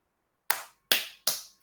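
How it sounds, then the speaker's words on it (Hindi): Three sharp, close palm-only claps, fingers kept apart, as part of an acupressure hand exercise, each crisp smack ringing briefly in a quiet room. "दोनों हाथ की हथेलियों को इस प्रकार से रखेंगे और ताली बजाएंगे 20 बार"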